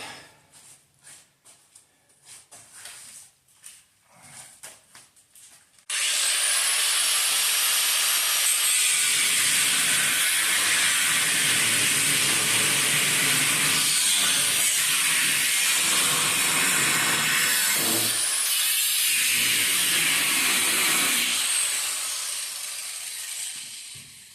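A saw cuts through the sheet-metal body of a 1968 Dodge Charger, a loud, harsh, steady rasp that starts abruptly after a few seconds of quieter workshop noise and runs continuously for about sixteen seconds before easing off.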